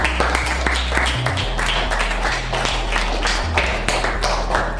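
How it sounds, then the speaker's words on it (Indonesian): A classroom group applauds two children, Abi and Alisa, giving a brisk run of clapping with a steady low hum running underneath throughout. "tepuk tangan buat Abi dan Alisa"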